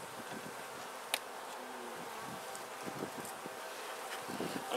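Honeybees buzz around a top bar hive that is being smoked and inspected, a steady close hum with occasional louder passes and faint outdoor rustle, no talking.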